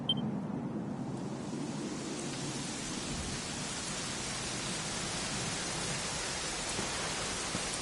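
Rain in Dragon Quest XI, falling as a steady, dense hiss that swells in over the first couple of seconds and then continues evenly, with no voices.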